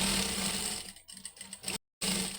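A sewing machine stitches a pocket onto school uniform trousers, a close, dense mechanical whir with a brief slowdown, then a sudden cut to silence before resuming.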